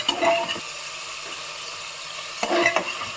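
Tomato, a large onion, cinnamon and clove sautéing in a pan for mushroom biryani, giving a soft steady sizzle with brief louder stirring scrapes at the start and near the end, and no talking.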